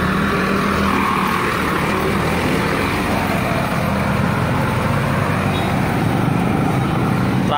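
Heavy road traffic rumbles loud and continuous around a loaded 40-foot trailer truck carrying 48 tons of cement as it reverses into a tight spot, a dense engine and tyre roar without clear breaks.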